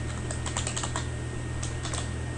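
Light clicking keystrokes on a computer keyboard come in two short runs of quick taps, close and soft over a steady low electrical hum.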